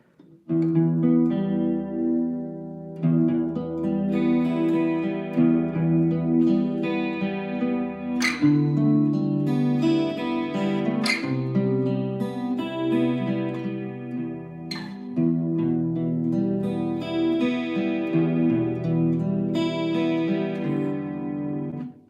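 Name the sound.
acoustic guitar chord being played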